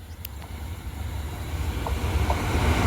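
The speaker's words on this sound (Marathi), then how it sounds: "बघा ट्रेन आलेली आहे" A train approaches and pulls in, its low rumble and rolling wheel noise steadily growing louder and nearer over a few seconds, with faint clicks from the track.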